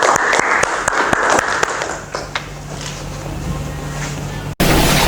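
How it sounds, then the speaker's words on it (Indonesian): Clapping at a classroom teaching exam session: a few sharp, separate claps at the start, then a fainter, rougher wash of noise, ending in a brief dropout and a louder burst. "kasih tepuk tangan dulu untuk Mbak Christine."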